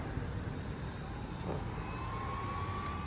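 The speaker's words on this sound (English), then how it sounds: "let's give this a Chinese heat gun a whirl" A cheap Chinese heat gun runs steadily with a continuous blowing whoosh and a faint whine, close by and alone.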